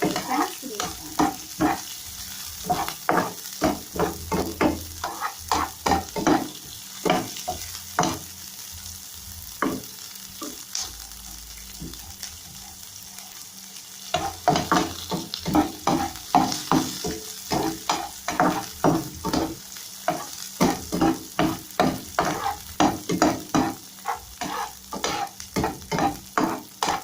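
Onion frying in a pan for Filipino-style poqui poqui, a steady sizzle broken by repeated scraping stirs in quick rhythmic bursts, close and alone with no talking.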